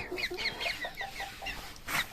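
Pekin bantam chickens, including a small black mottled rooster, cluck in a backyard flock, a close series of short soft clucks and chirps followed by a louder call.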